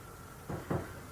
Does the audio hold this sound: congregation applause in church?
no